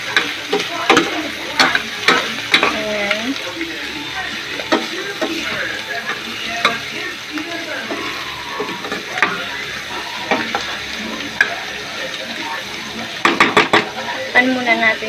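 Beef tripe for papaitan frying in oil in a pan, with a continuous sizzle and the scraping and knocking of a utensil stirring against the pan, under a man's occasional speech.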